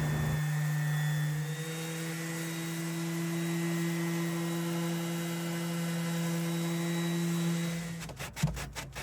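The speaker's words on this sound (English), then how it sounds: "I used a sander." An electric power sander runs steadily, stripping paint from a rare mid-century furniture piece, a sustained high whine with a constant droning tone that cuts out near the end into a few rough knocks.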